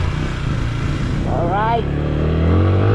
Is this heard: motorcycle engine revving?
yes